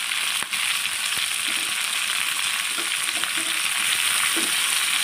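Tomatoes frying in oil for a mushroom curry give a steady, close hiss of sizzling with a few soft stirring clicks, and no voices.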